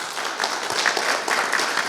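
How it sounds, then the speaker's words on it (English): People at a museum panel discussion on women in motorsports engineering clap for the panelists in a brief, steady burst of applause, fairly close and full, with no clear talking. "Give them a round of applause"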